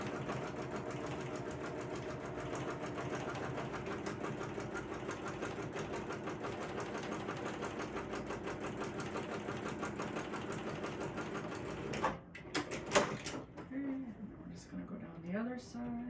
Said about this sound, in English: And then you're going to top stitch down each side of the seam.